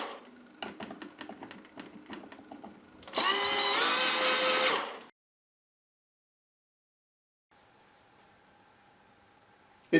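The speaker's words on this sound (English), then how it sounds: "So I took the drilling slowly. I definitely didn't want to drill through the cab roof." A power drill whirs steadily for about two seconds, drilling out a rivet on a Dinky Toy 252 refuse truck cab, after a run of sharp clicks and taps, then stops; brief faint clatter follows after a pause.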